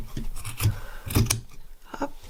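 Scissors snip through fabric to trim it a little shorter while sewing Christmas preparations, giving a few close, crisp rasping cuts in quick succession with no talking.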